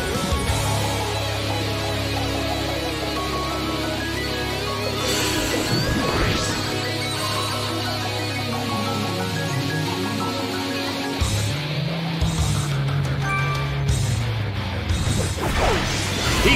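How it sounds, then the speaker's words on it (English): Heavy attack blows land in a Pokémon Battle Revolution match, with crashing impacts and swooshing hits layered over steady battle music, including a sharp sweep near the middle and a loud strike late on. "A smashing blow."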